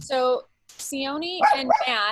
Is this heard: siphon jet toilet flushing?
no